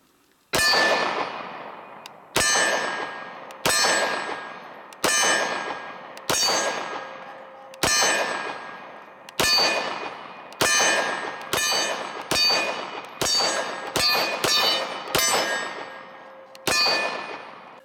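Pistol rounds, 115-grain ammunition from a Walther PPQ, ringing off an X-Steel target in a run of about fourteen sharp metallic clangs, irregularly spaced, each leaving a long bright ring that decays between shots.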